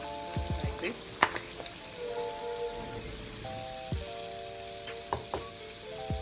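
Flour-dusted pig tails fry in hot oil inside a toaster oven, giving a steady crackling sizzle with scattered sharp pops and clicks throughout, close and moderately loud, with no talking.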